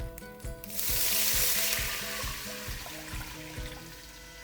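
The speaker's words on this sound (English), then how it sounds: "I'm gonna deglaze the pan, which means I'm adding liquid, and it's going to start boiling" A hot pot roast pan is deglazed with liquid, giving a loud, steady sizzle and boil that swells after the first second, with a rhythmic scraping or stirring thumping underneath.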